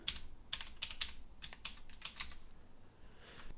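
Keys tapped on a Mac computer keyboard as a password goes in, a short burst of close, light clicks in an uneven rhythm that fades out near the end, with no talking.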